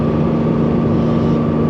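Mercedes-Benz W124 300D diesel, heard from inside the cabin: a steady low droning engine hum with a constant tonal whine, loud and unbroken, no talk.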